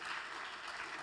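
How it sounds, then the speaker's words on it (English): A steady, dense wash of audience applause at a DevSprint 2.0 knockout livestream event, even and continuous for about a second. "Round of applause, round of applause."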